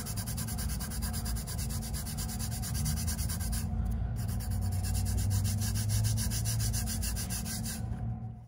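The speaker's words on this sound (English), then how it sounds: "I'm just gonna keep rubbing this down" Tack-it material being rubbed down firmly by hand, a steady, dense scratchy rubbing that runs continuously and close up, with only a brief pause partway through.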